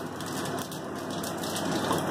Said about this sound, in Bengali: আর একটু তেল দিলাম সর্ষার তেল, আর এর মধ্যে একটু পাঁচফোড়ন দিচ্ছি